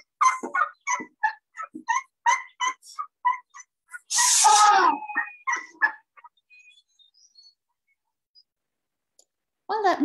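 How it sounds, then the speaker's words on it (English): Asian elephant squeaks: a run of short, high, chirpy pulses followed by a louder, raspy burst, with a few more squeaky, tonal calls trailing off near the end. "if you listen again to the elephant squeak"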